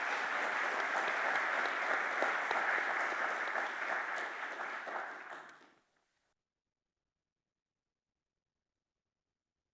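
Audience applause welcoming a speaker to the stage at a morning talk on AI policy, a full, steady clapping from a crowd that holds for several seconds, then fades quickly into silence.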